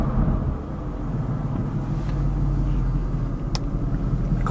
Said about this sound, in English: So starting up the car